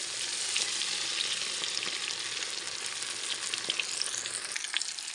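Chicken frying in a pan with a bright, continuous sizzle and crackle, punctuated by occasional sharp pops and stirring scrapes, close and fairly quiet with no talking.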